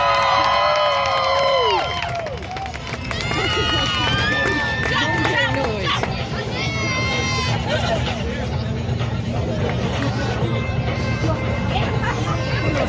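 A crowd at a skydiving show cheers, whistles and shouts loudly, with a dense, sustained roar of many voices and an announcer speaking over the noise.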